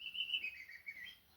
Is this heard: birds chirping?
yes